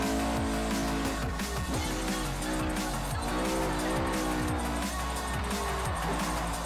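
A Honda S2000 in the Forza Horizon racing game brakes hard into a corner, its engine revs rising and falling in quick shifting sweeps with tire squeal, loud and continuous.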